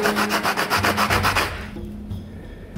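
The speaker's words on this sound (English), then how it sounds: "Give the whole thing a general sanding." Sandpaper rubbing over a small clamp made from plastic clothes pegs, a quick series of rhythmic rasping strokes close up, then a fainter scuffing as the piece is handled.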